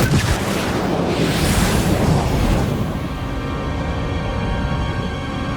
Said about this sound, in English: Arm the nuclear warhead. Proximity detonator at 100 meters.